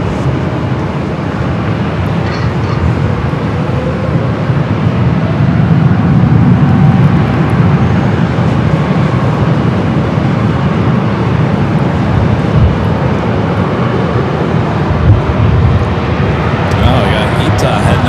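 A large Air France airliner on its takeoff roll from runway 24 Left at Los Angeles International Airport gives a steady, broad jet roar that swells a little partway through and holds to the end, with faint voices underneath.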